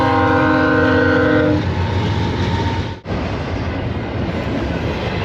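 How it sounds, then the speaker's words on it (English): A long double-stack freight train rolls past close by, its horn blaring briefly at the start before giving way to a loud, continuous rumble and rattle of passing railcars. "Just wait for the train to pass by and then we'll continue here."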